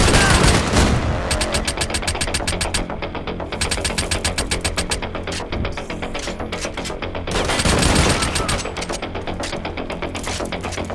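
Rapid bursts of automatic gunfire from a video game, dense and loud, with short pauses between long strafing runs over a steady engine-like rumble.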